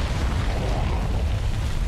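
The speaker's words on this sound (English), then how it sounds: "Did you just call an airstrike?" An airstrike explosion in the shooter Far Cry 5 during a zombie expansion, a dense, loud, rumbling blast roar that fills the whole stretch without a break, low-heavy and close, with no clear speech.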